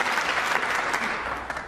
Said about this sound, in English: applause from the audience